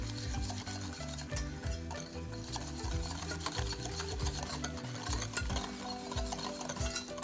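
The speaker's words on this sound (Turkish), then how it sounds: "Şöyle biraz karıştırayım." Chocolate sauce for a chocolate biscuit cake being stirred in a pot, a continuous scraping and rubbing of the spoon against the pan bottom, close and steady with small knocks, no voices.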